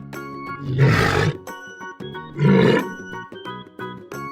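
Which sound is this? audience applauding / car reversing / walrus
walrus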